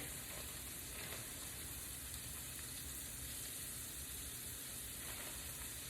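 Crawfish sizzling in a hot pan for a homemade étouffée, a steady, close frying hiss with soft crackle that holds evenly throughout, no voices.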